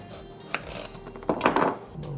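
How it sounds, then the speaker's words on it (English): A knife cuts zucchini into slices on a board, a few soft close cuts and scrapes, one sharp tap and then a louder chopping burst, with no talking. "now I will cut zucchini about"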